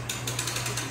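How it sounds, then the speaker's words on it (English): Trailer winch on a landscaping trailer being reversed, giving a steady, close ratcheting clatter of pawl clicks over a constant low mechanical hum, with no talking. "taking out the main latch here, just reverse the winch"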